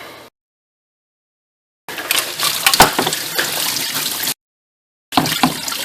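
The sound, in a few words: coolant draining from car water pump drain plug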